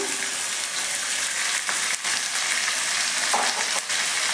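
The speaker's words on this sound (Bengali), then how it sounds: "যে মাংসটা আমি আধ ঘন্টার জন্য ম্যারিনেট করে রেখেছিলাম সেই মাংসটা এর সাথে দিয়ে দিলাম" Marinated chicken fries with green chillies in a hot pan with a loud, steady sizzle and the odd stirring scrape. The sound is close, continuous and dense, with no talking over it.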